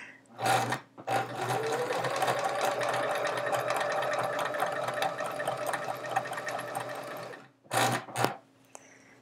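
A sewing machine stitches quilt chevrons in a steady, close, continuous whir for about six seconds, bracketed by short bursts of stitching at the start and end.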